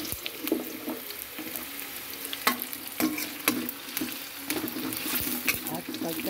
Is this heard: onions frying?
yes